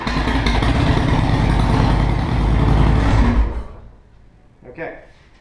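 A motorcycle engine fitted with a ThunderMax fuel-management module cranks and runs loud and steady for about three seconds, then cuts off abruptly, followed by a faint clunk and quiet tail.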